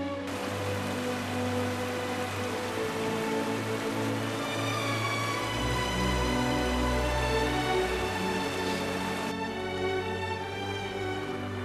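Steady, dense rainfall in a tropical rainforest on Uganda's Rwenzori trail, pattering continuously over a broad hiss, with no voices, filling the space evenly from start to end.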